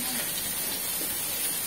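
Chopped onions sizzling in hot coconut oil with cumin seeds, cooking for a chicken curry, giving a faint, steady hiss that holds evenly without breaks.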